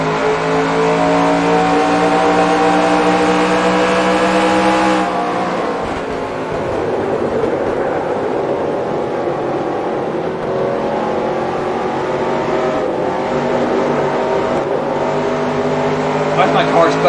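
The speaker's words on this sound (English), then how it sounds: "Why is my car sputtering like that through the corner?" A race car engine in NASCAR Racing 2003 drones loudly and continuously, its pitch dropping and roughening as it sputters through a corner before climbing again, with a voice talking over it.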